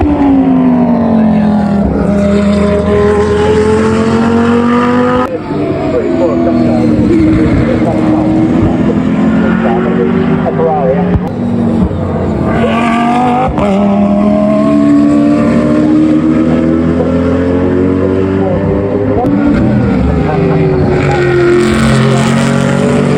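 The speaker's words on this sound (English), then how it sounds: "There's a Corvette ripping around that I'm absolutely in love with." Historic race cars, including a Corvette, roar past at Donington Park during a historic racing festival, their engine notes rising and falling continuously and loud throughout, with people talking over the racket.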